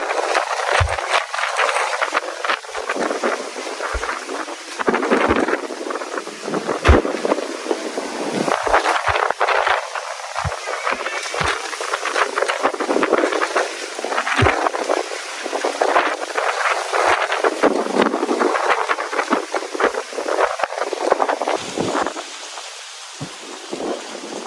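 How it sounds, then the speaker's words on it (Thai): Strong summer-storm wind buffets the microphone outdoors at a house, a dense continuous roar with repeated low thumping gusts throughout, and no speech. "ลมแรงจริงๆครับเสียงอาจจะไม่ชัดเจนเท่าไหร่นะครับ"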